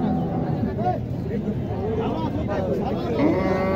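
Sahiwal cattle low repeatedly at a busy cattle market in Naogaon, the long moos rising over a steady background of crowd chatter and people talking nearby.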